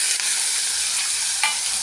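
Ground masala paste with garlic and ginger sizzles and crackles in hot oil while being stirred for dum aloo, a close, steady frying hiss with a couple of brief scraping stirs.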